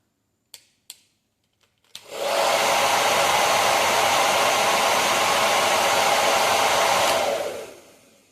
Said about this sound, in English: I'm going to fire up my trusty, really old, crappy hairdryer and blast some air